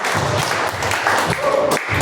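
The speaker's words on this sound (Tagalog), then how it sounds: "palakpak po para sa Panginoon" Congregation clapping during a church sermon, a brief burst of dense applause carrying on steadily with faint voices mixed in.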